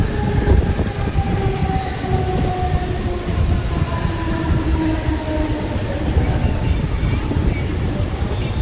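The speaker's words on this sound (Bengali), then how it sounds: "আমরা স্টেশনে ঢুকছি আস্তে আস্তে।" A Mumbai local train rolls slowly into a station with a loud, steady rumble, faint squealing tones drifting through the noise.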